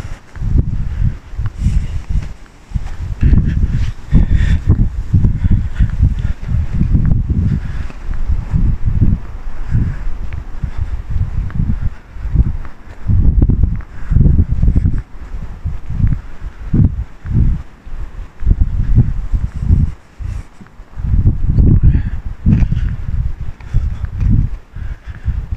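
Strong wind gusts through a forest, swelling and fading in loud, continuous waves with rustling and buffeting close to the microphone.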